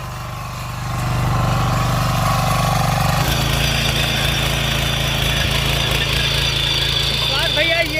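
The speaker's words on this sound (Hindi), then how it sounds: "ये है ओरिजिनल इंजन की ताकत" Engine of a power weeder (tiller) from an agricultural equipment maker in Surat, Gujarat, running steadily and loud with a low droning hum that rises in intensity after a few seconds, continuing throughout under faint background noise.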